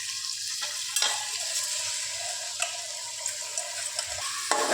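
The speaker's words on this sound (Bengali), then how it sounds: "এবার গ্যাসের ফ্লেমটাকে আমরা হাই রেখে ওটাকে নাড়তে থাকবো।" Rice and lentils fry over a high gas flame, stirred with repeated scrapes and clinks against the pan above a soft, constant sizzle.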